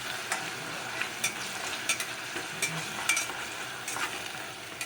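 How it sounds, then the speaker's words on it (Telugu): Eggplant frying in a pan with green chili paste gives a steady sizzle, with light scrapes and taps from stirring now and then. No one speaks. "ఇప్పుడు కొంచెము ఫ్రై చేసుకుందాం"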